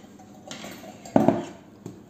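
A freshly baked brioche being unmolded from a hot metal baking pan in a home kitchen: a few faint metallic clinks and knocks, one louder clatter in the middle, with no talk.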